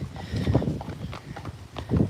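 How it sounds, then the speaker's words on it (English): Hooves of horses clip-clop at a walk on a hard surface, a younger horse led alongside an older, experienced driving horse; steady uneven hoof strikes, fairly close, with no talk. "getting out the younger horses like Nero with the more older experienced horses"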